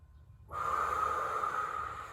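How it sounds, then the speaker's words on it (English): Slow, deep exhalation through the mouth during a cool-down hip and groin stretch, a single long breathy rush starting after a brief quiet moment and held steadily close to the microphone. "2 more deep breaths"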